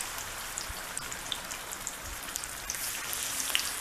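Chicken pieces fry in very hot oil for crispy fried chicken, giving a steady crackling hiss with scattered pops and spits throughout, fairly quiet and close, with no talking.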